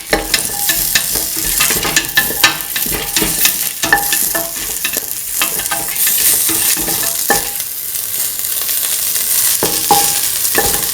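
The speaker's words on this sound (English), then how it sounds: "Saute mix carrot." Carrot pieces stirred and sautéed in a hot pan for a coconut milk vermicelli pasta dinner, with a steady loud sizzle and repeated scraping strokes of the spoon over about eleven seconds, no talking.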